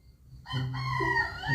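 Rooster crowing in a modern two-storey house-building sandbox game, a single loud cock-a-doodle-doo rising after a quiet start and carrying on for about a second, alone with no talk.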